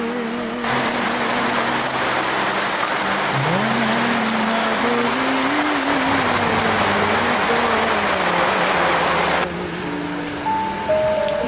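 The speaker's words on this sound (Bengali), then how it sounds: "নয়নাভিরাম বৃষ্টির শব্দে যেন মন জুড়ে যায়" Rain falling on a village, a dense continuous hiss of drops on surfaces, close and loud, with a low tonal hum and singing underneath it.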